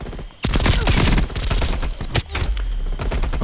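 An MP5 submachine gun fires in Black Ops Cold War, with loud, close, rapid automatic bursts and a brief break before firing resumes.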